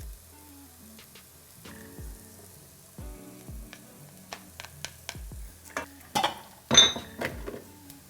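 Garlic frying in a pan while a mince bolognese is cooked, heard as a soft, steady sizzle with scattered clicks and light utensil taps, up close.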